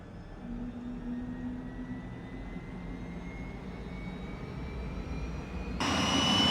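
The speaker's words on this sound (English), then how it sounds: "these old jet engines actually were very loud" Turbine engine of an Alouette III helicopter spooling up in the X-Plane 12 flight simulator: a steady whine with rising tones, growing louder until a sudden surge of fuller roar near the end.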